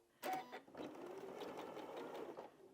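A sewing machine stitches a quilt block seam in a steady, quiet mechanical whir, with a brief louder burst at the start and then a continuous rapid hum of needle strokes, close by.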